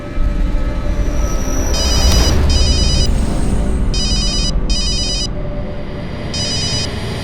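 A phone rings in repeated short electronic bursts, paired rings recurring over a loud rumbling, train-like background.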